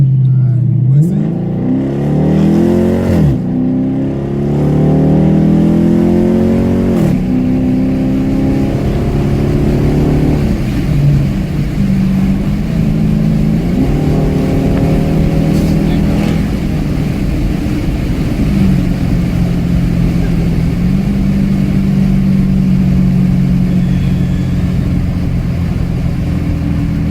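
A Dodge Challenger R/T driven hard at night in sport mode, its engine loud and close as it revs up through repeated rising pulls and gear shifts, then settles into a steady drone, with people talking inside the car.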